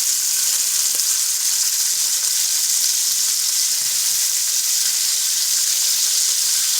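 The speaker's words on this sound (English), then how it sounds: "we're gonna fry our cabbage over in here" Cabbage from a home garden fries in oil with smoked meat, giving a steady, dense sizzle that fills the whole stretch at close range, with a faint clink or two and no talking.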